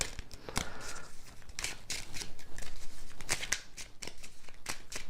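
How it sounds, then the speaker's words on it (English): Playing cards are shuffled up close, a quiet series of short, crisp riffles and flicks coming in quick irregular bursts. "And then we can get started if I learn how to shuffle."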